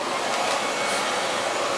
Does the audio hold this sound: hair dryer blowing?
yes